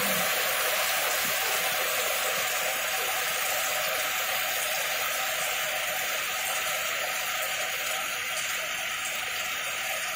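Heavy rain in a sudden storm with strong wind on the island of Bohol, a dense, steady hiss of downpour holding constant throughout with no voices.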